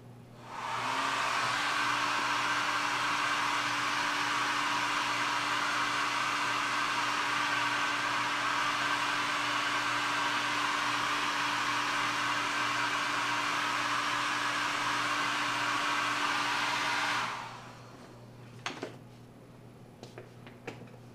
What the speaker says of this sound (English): I'm just gonna dry this really quick with my blow dryer that I use for a heat gun